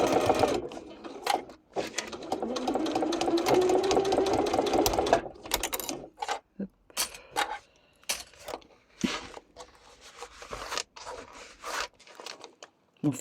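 A sewing machine stitching together fabric scraps for a patchwork blanket runs in one steady, close, whirring burst for about five seconds. Scattered clicks, handling noises and brief rustles follow as the fabric is moved, with some quiet speech.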